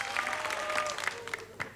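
Brief applause from an audience for a contestant named Daniel Encina at a televised tribute show, scattered claps with a few louder hand strikes standing out, moderately faint.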